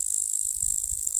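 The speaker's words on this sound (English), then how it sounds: "Grasshopper." Steady high-pitched insect chirring, like a grasshopper or cricket, runs continuously and fairly loud throughout, with a faint low rumble underneath and no voices.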